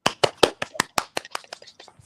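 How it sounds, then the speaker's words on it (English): A handful of people applauding on a video call, a sparse run of distinct hand claps, close and uneven, tapering off over a couple of seconds. "Applaud for the guy."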